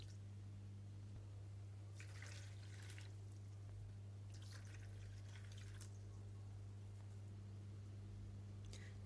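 Water poured from a glass into a bowl holding fresh yeast for bazlama flatbread dough, a few bursts of splashing pouring separated by pauses over a low steady hum, fairly faint and without talk.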